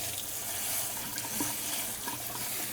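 Water running steadily from a kitchen tap to rinse pork, a close, continuous splashing hiss into the sink with no talk.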